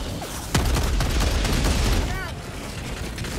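Gunfire from Helldivers 2 aimed at a Hulk, a dense, loud burst of shots and booms filling the moment, with a player's voice talking over the game noise.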